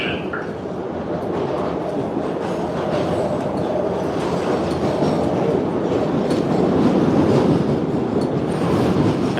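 MBTA Red Line subway train in Boston running through the tunnel toward Downtown Crossing, a loud, constant roar of wheels and car rumble heard from inside, with faint rhythmic clacking and no voices.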